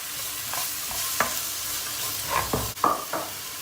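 Peppers are stirred into sizzling tomato paste in a frying pan, with a steady fry underneath and several distinct scraping strokes of a utensil against the pan, close and clear without any talk.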